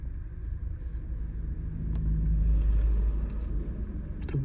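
A car engine idles steadily during a random multiple-cylinder misfire diagnosis, a close, continuous low rumble that swells slightly in the middle, with faint clicks over it and no talking.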